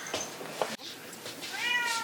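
A house cat meows faintly in the background of a quiet room, with a couple of soft short calls and a brief click in between.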